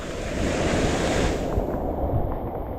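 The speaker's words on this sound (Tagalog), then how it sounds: "talagang malakas ng ulan, malakas ng hangin" A dense, roaring rush of wind and pouring water fills the clip during shore casting in rough seas, loud and continuous like heavy rain in a gale.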